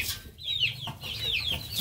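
Two-month-old chicks in a mixed flock give soft, repeated high clucks and peeps, a few short calls close by over a quiet background.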